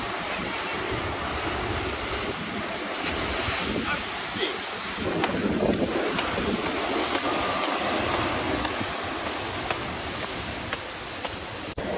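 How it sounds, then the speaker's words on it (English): Waves wash onto a beach on a cold day, a continuous roar of surf mixed with heavy wind buffeting the microphone throughout. "Oh, the beach."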